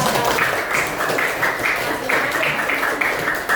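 Schoolchildren in an elementary classroom clap together in a quick rhythmic pattern, bursts repeating at an even beat, loud and close with some faint voices mixed in.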